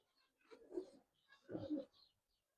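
A pair of green-necked pigeons with a light silver touch coo twice, soft and close, each low throaty call swelling and fading with a brief quiet gap between.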